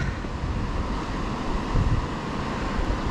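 A river rushes past rocks along a rapids hike at Ohiopyle, a loud steady wash of water with a low rumble underneath, unbroken and close by.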